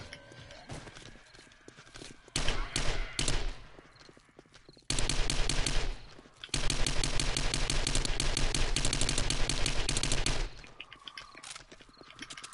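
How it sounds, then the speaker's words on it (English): AK rifle gunfire in a desert video game: loud, rapid automatic bursts, with one short volley followed by a long sustained stream of shots, then quieter sporadic fire. "Yeah, the AK does work a bit better"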